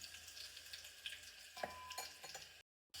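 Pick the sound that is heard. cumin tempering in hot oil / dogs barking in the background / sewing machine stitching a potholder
cumin tempering in hot oil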